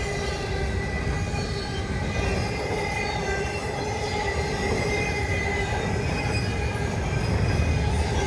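A long CSX freight train rolls steadily past close by, with continuous rumbling, rattling wagons and high metallic wheel squeals throughout.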